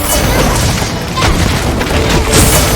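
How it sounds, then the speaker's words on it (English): Fire-element explosions from a Charge Blade in Monster Hunter, a loud continuous barrage of booming blasts and crashing impacts layered together with no pause throughout. "So this is a fire weapon. So it explodes into elements of fire."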